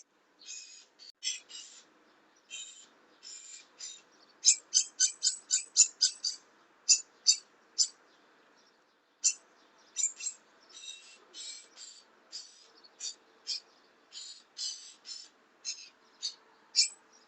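A bird squawks outdoors in a long series of sharp, high, short calls, some in fast runs, others spaced out, fairly distant with quiet gaps between.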